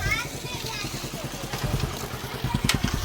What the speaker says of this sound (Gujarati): મારું બાઈક આવ્યું